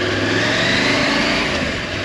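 A Husqvarna Norden 901 motorcycle engine hums and revs steadily up close, a continuous droning roar without speech.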